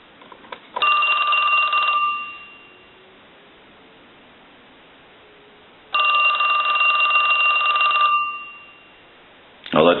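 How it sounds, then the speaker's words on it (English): A Western Electric Princess telephone bell rings in two loud bursts of about a second and a half each, split by a pause, with a third burst starting at the end; faint talk sits in the gap. "Now what we want to do is go ahead and ring the unit."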